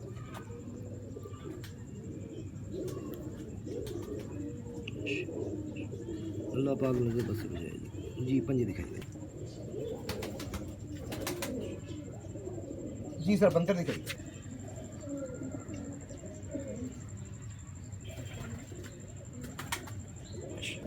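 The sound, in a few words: pigeons cooing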